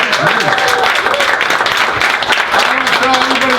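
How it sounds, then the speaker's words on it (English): A live event crowd claps loudly and continuously, with cheers and voices rising through the applause from start to finish. "Give yourselves a round of applause."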